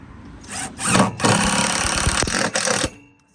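A power drill drives screws into a wooden trailer floor. There is a short whir and then a longer, loud grinding run that cuts off abruptly, heard up close.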